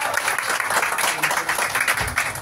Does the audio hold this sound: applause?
yes